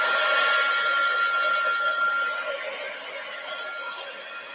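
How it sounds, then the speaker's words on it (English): Heat gun running with a steady, airy whine and hiss, close and constant, slowly fading slightly over a few seconds. "Heat gun alert."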